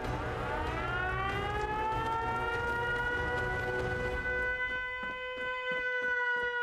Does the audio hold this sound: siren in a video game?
yes